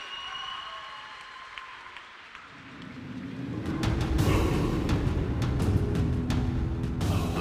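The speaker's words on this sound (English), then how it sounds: "your effort deserves a round of applause" A crowd in an indoor pool arena at the LEN U23 European Swimming Championships bursts into sustained applause midway through, swelling from a quiet hall murmur into loud, dense clapping that holds steady to the end.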